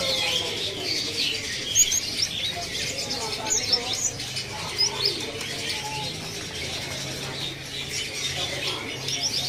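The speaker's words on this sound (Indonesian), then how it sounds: "Di sini ada burung gelatik batu." Small songbirds chirp and tweet in a busy market bird kiosk among caged birds, with a thick layer of overlapping calls, cooing and occasional wing flaps under faint background chatter throughout.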